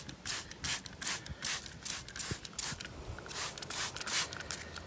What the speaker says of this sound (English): spray the aphids directly. Spray plenty on.